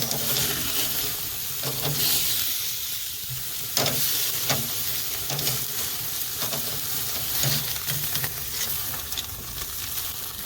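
Steaks searing on a Chud Box grill, a loud, continuous hissing sizzle with occasional pops and crackles from rendering fat, close and unbroken.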